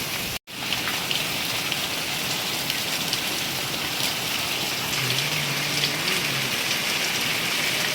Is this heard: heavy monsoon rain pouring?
yes